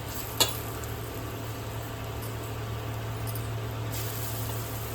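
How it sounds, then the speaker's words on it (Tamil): Small kuzhambu dumplings dropped into hot oil, a short splash followed by a steady, close sizzle that keeps bubbling throughout. "இப்போ சின்ன சின்ன உருண்டையாக பிடிச்சி எண்ணெய் சூடி எறிக்குது இப்போ போடுங்க"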